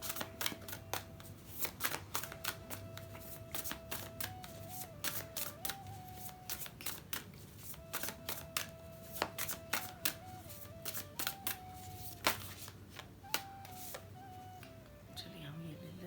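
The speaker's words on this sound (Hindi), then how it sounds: "जब तक मैं कार्ड शफल करती हूँ" Tarot cards shuffled by hand at close range, bursts of quick riffling flutters repeating in short rhythmic runs, with a soft tonal hum underneath.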